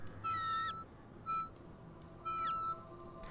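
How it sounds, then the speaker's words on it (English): Birds in the video game RHEM 3 singing a short repeated tune, three separate tonal calls with rising and falling whistles, clear and moderately loud over a quiet background hum. "We can hear the birds sing the sounds even when we're standing here."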